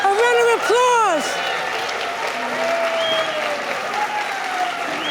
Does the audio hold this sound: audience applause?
yes